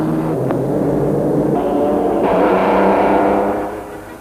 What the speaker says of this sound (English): the Austin 7 sets the pace, swelling a roaring hymn to the god of speed